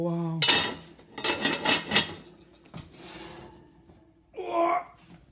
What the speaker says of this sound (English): here comes the Dutch oven